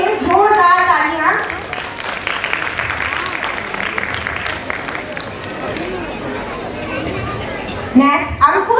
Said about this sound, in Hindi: आयुष जगह पाल के लिए जोरदार तालियां